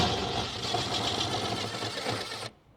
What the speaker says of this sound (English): you'll take your drill with your 10mm socket on it, and you'll take off two 10mm bolts